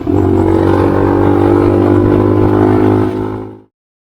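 A 2021 Tao TBR7 motorcycle runs loud and close in a high gear, its engine a steady droning buzz with strong tonal harmonics that holds for a few seconds before cutting off abruptly.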